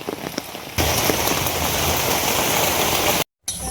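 Heavy rain pours steadily, a dense, loud hiss of drops on a surface, briefly cutting out near the end before resuming.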